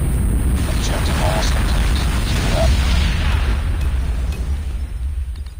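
A nuke detonating in the video game Call of Duty Mobile: a loud, sustained, roaring blast rumble that fills the whole stretch and fades slightly at the end, with faint voices underneath.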